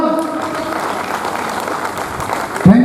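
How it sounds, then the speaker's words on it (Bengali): Loud, dense applause from a crowd at a Treasure NFT celebration gathering in Bishnupur, West Bengal, running steadily throughout, with a voice rising briefly near the end. "জোরে হাততালি একবার।"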